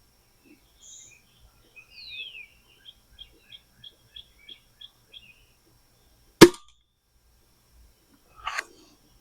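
Anschutz 2002 air rifle firing H&N lead pellets outdoors: one sharp, loud shot cracks out, followed by a fainter second report about two seconds later, with birds chirping softly in a quiet setting beforehand.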